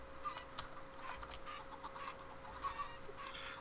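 Minecraft chicken clucking in soft, scattered short calls over a steady low game background hum, faint and alone with no talk.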